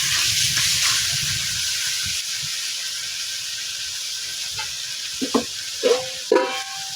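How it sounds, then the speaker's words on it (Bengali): Ash gourd with shrimp and grated coconut being stirred in a pan, a steady low sizzle with a few scraping utensil strokes near the end. "নারকেল কোড়া দিয়ে এগুলোকে ভালোভাবে মিশিয়ে নিচ্ছি।"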